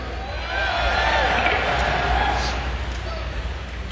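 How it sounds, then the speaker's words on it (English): A crowd at the New Orleans Jazz & Heritage Festival roars and cheers steadily across an open-air space, a broad sustained wash of voices with a brief shout near the middle. "I love the sound of a rowdy crowd."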